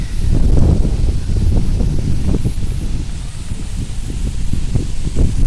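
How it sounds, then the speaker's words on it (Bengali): Wind blows through trees in a riverside village, a loud, rough rumbling buffet with a rustle of leaves that holds steady for several seconds. "বাতাস বয়ে যাচ্ছে"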